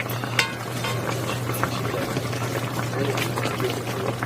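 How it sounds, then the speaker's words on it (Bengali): Broth poured over Korean sea fish in a pot, a close, continuous liquid bubbling and splashing that stays fairly loud throughout. "ঝোল এইভাবে দিয়ে দেবেন উপরে আবার ঢেকে দেব"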